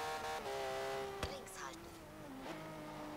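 In Forza Horizon 3, a car's engine holds a loud, high, steady rev on a circuit, broken by a sharp gear shift and a brief tyre squeal, close and continuous, with someone speaking over it.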